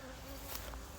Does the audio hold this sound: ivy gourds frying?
no